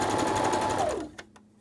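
A sewing machine runs steadily with a rapid mechanical whir while stitching a fabric face mask, then slows and stops, leaving a couple of small clicks.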